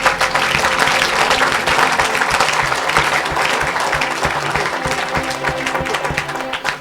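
A congregation at a church worship service bursts into loud, sustained applause, a dense, continuous wash of clapping that fills the room and fades slightly toward the end.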